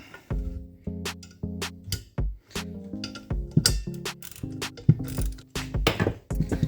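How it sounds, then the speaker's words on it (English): A bearing is bolted onto the back of a hammer mill with a ratchet, in repeated close clicking runs. Metallic ringing knocks from the parts sound between the clicks, and no one speaks. "we're going to bolt the bearing on the back"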